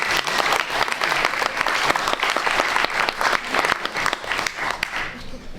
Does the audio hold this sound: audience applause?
yes